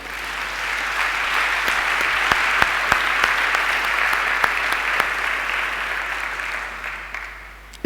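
A church congregation claps and cheers in sustained applause at a French-language Sunday service, loud and continuous with a few sharper claps standing out before it slowly fades.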